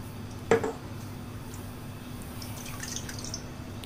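A flame-heated glass bottle plunged into water gives one sharp splash and sizzle, then faint scattered drips and trickles fall in the quiet that follows.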